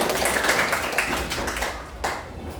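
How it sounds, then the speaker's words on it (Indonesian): A school class claps together in a short burst, a dense patter of many hands in a classroom that fades out over a couple of seconds, with a few sharper claps near the end. "terima kasih tepuk tangan."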